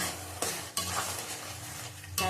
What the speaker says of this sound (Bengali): আবার ভালো করে কষিয়ে নেব।